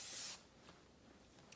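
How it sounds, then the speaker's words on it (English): A short, close hiss of a prep and finish hair spray being sprayed onto hair, one burst at the start fading into quiet rustling. "I spray it on my hair before and after to hold"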